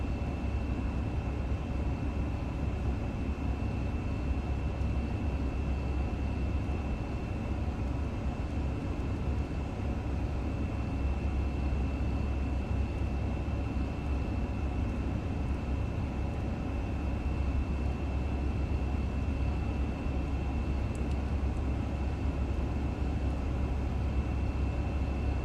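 Thai Airways Airbus A350 taking off in Microsoft Flight Simulator on a Bangkok to Phuket route, a steady, loud engine roar with a constant whine that holds evenly throughout, with no talk.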